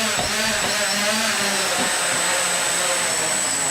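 Parallax Elev8 quadcopter, strapped down, with its motors spinning at about half throttle: a steady, loud, even whine and rush that holds through the clip with no talking.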